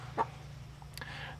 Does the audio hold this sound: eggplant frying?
no